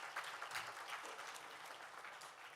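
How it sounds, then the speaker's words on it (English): Audience at a signature international awards ceremony breaking into a sustained round of applause, steady dense clapping throughout with no voices over it. "So can we have a good loud round of applause?"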